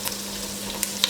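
Cubed onions fry with dried red chillies in a pan over high flame for papaya masala curry, making a brief, steady close sizzle with a couple of small spatula clicks.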